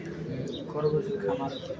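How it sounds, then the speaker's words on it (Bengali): Soft, low pigeon coos murmur beneath a person talking close by, the birds' throaty calls blending into the steady speech. "এই যে বন্ধুরা, কবুতর, সুন্দর সুন্দর কবুতর আছে"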